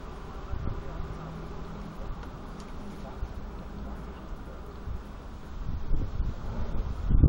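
Steady wind rushes and buffets on a balcony, a constant broadband roar that grows stronger and gustier toward the end.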